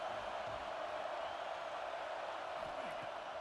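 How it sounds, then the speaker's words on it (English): A roaring college football stadium crowd at Alabama's home field on third down, broad and continuous noise from thousands of fans, with a play-by-play announcer talking over it. "The Tide crowd rolling noise down on the Saban field on third down."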